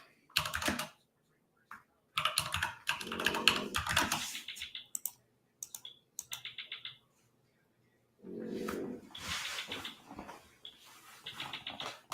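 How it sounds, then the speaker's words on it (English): Close, crisp keystrokes on a computer keyboard come in quick bursts separated by pauses, in a trading-desk setting. "What was I typing here?"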